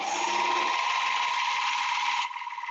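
A serger sewing machine runs at a fast, even, humming whir, close and steady, then cuts off abruptly just before the end, leaving a faint tail; no voices.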